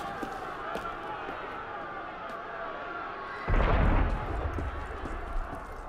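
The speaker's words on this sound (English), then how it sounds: "That was cannon fire." A single heavy cannon boom bursts in partway through a scene in Assassin's Creed Unity, standing out briefly above a steady bed of game ambience before fading back.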